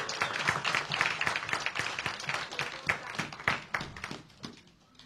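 A church congregation applauds the Lord, many hands clapping in a fast, dense patter that stays strong, then thins and fades toward the end.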